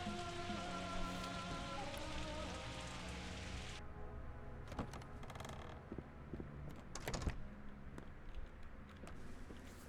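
Rain in a video game, a steady broadband patter that cuts off sharply partway through, followed by faint mechanical creaks and clicks in quieter surroundings.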